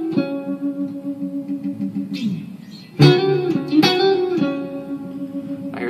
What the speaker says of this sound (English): Here's a little rake.